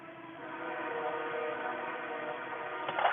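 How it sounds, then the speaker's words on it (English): A train rumbles past nearby in a steady, continuous drone heard from inside a moving car, with a faint horn-like tone rising near the end. "That train is like right there"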